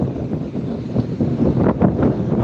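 Gusty wind buffets the microphone outdoors on a morning walk by a road where trucks pass, a loud continuous rushing roar that swells and dips.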